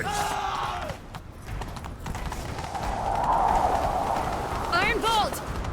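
Horse hooves galloping in The Witcher 3, a steady rapid clip-clop under game dialogue and ambient noise, fairly close and continuous.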